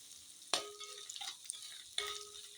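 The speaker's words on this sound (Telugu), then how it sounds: "అల్లం వెల్లుల్లిపాయ పేస్ట్ అనేది పచ్చి వాసన లేకుండా ఫ్రై చేసుకోవాలి" Ginger garlic paste frying in a hot pan, with two sharp scrapes of a utensil against the pan over a steady, quiet sizzle.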